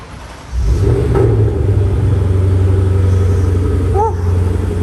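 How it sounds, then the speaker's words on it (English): A car cold-starts inside an enclosed parking garage: the engine catches within half a second, then settles into a loud, steady, echoing idle rumble. "I haven't heard a cold start in a parking garage in a long time."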